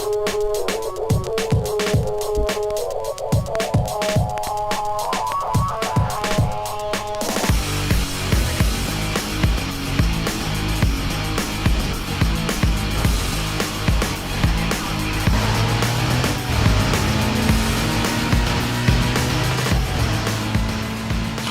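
Racing engine of a BMW M3 GTR in the video game Need for Speed Most Wanted: a loud, continuous growl with rising revs and gear changes, following a short rhythmic musical intro.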